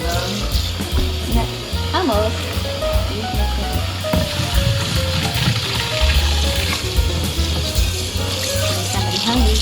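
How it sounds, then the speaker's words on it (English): Water is strained from cooked noodles for Vietnamese pho, a steady rushing pour and splash lasting throughout, with a voice speaking briefly over it. "now we're going to strain the water out of the noodles"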